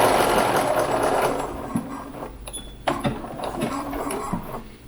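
A sewing machine stitches a pocket onto a McCall's easy wrap apron-style dress, running in steady bursts loudest at the start, then pausing and restarting in short runs as the needle is sunk and the fabric pivoted.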